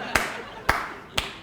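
Three single hand claps, sharp and evenly spaced about half a second apart, ring out close by over a quiet background on a comedy talk show set.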